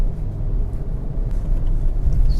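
Hyundai i20 BS6 engine revving past 4000 RPM, a steady low droning rumble heard from inside the car, continuous and moderately loud with no talk over it.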